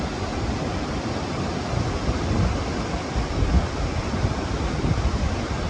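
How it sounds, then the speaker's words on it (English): Eagle Falls pouring over granite cliffs toward Emerald Bay at Lake Tahoe, a dense, steady roar of rushing water with some wind buffeting, loud and unbroken throughout. "The rushing water creates a soothing soundtrack as it flows into the stunning Emerald Bay below"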